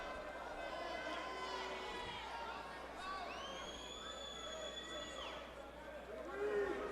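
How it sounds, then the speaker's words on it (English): A crowd at an RFA 12 MMA grappling bout in South Central Los Angeles, a steady murmur and babble of spectators with scattered shouts, and no clear talk standing out. "Look at the crowd on hand here in South Central LA."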